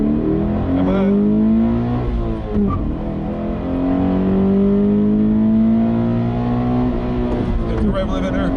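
A car engine at full throttle during a timed speed run screams upward in pitch, drops briefly at a gear change, then climbs again until it bounces off the rev limiter, loud and close throughout.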